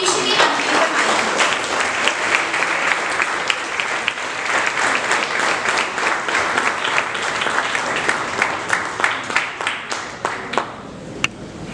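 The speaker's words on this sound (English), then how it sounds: "Let us have a big round of applause as we officially unveil the magazine." Sustained crowd applause at a university magazine unveiling during a School of Human Resource Management event, dense steady clapping thinning near the end into scattered individual claps.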